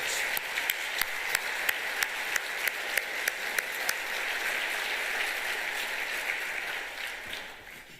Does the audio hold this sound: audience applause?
yes